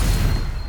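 The Stupefy spell is cast in Hogwarts Legacy, giving a single heavy, booming burst that hits at once and fades over under a second, close and loud with no voices.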